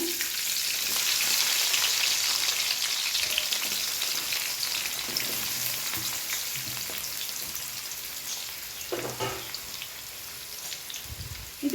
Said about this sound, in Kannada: ಎಣ್ಣೆ ಕಾದಿದೆ, ಈಗ ನೀರುಳ್ಳಿ ಹಾಕ್ತಿದ್ದೇನೆ.